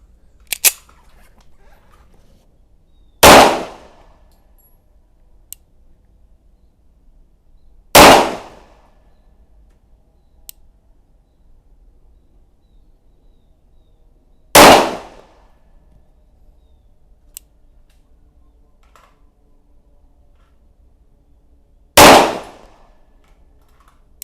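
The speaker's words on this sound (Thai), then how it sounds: "เดี๋ยวเรามาลองระยะที่ไกลขึ้นนะครับว่า กลุ่มกระสุนจะต่างกันขนาดไหน มาครับ อันนี้ระยะ 15 เมตรนะครับ" Four single pistol shots fired at a 15-metre range with a Colt and a Rock Island handgun, each a sharp loud crack spaced several seconds apart in otherwise quiet surroundings, with faint clicks between.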